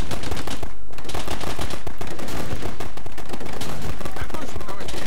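Dense, continuous gunfire from soldiers in the war strategy game Men of War: Red Tide, rapid overlapping automatic bursts that are loud and close, with no pause across the whole stretch.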